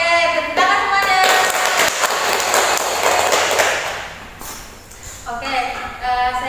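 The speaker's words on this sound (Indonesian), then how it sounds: "Oke, tepuk tangan semuanya." A group of participants in an Indonesian group counseling session claps hands together in a sustained burst of applause lasting a few seconds, with talk before and after.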